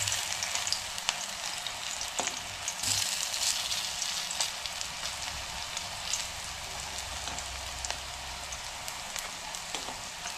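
Papaya frying in a pan, a dense continuous sizzle like light rain with occasional spoon scrapes and small clicks, close and steady.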